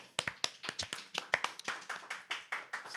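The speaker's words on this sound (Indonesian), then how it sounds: "Tepuk tangan aja juga keur urang ya" A few people clap their hands in a podcast studio, sharp separate claps in a loose, uneven rhythm, close and distinct, with no talking over them.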